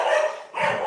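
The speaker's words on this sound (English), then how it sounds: "doggy's going in the background." A dog gives two short barks in the background of a live football chat show, fairly faint and with no clear speech over them.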